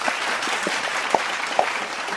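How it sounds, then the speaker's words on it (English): Modest applause from a small gathering at a morning devotion, a steady patter with a few sharper individual claps poking through. "let's give her a thank you clap"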